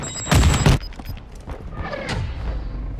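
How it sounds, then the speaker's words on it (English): A Semtex sticky grenade goes off in Call of Duty: Modern Warfare II, one sharp, loud blast followed by a fading rumble and faint scattered noise. "Throwing Semtex!"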